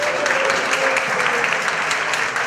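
A crowd at a German radio station meet-up in a venue claps vigorously, giving a dense, steady wash of applause close by with no pause for the whole stretch.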